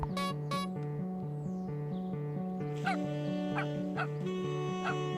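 A dog in the video game Dropsy barks and yips in short bursts over looping game music, a few quick barks early on and then several more spaced whimpering yelps.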